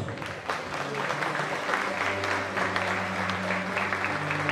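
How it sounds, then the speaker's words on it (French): An audience at a lace queen pageant gives moderate, steady applause for the contestants, the clapping sustained and even with a low hum underneath. "j'aimerais qu'on les applaudisse"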